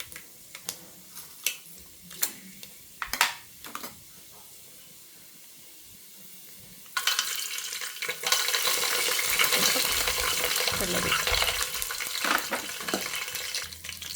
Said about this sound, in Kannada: ಇದನ್ನು ಚೆನ್ನಾಗಿ ಫ್ರೈ ಮಾಡ್ಕೊಳ್ಳೋಣ ಕಡಲೆ ಬೀಜ ಚೆನ್ನಾಗಿ ಫ್ರೈ ಆದರೆ ತುಂಬ ಚೆನ್ನಾಗಿರುತ್ತೆ